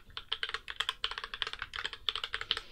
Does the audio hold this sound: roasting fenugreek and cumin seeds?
no